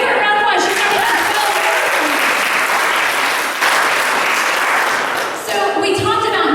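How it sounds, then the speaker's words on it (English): An audience at a retail and leadership training session breaks into loud, sustained applause that dips briefly and then tapers off, with a voice coming back in at the end. "Y'all give her a round of applause"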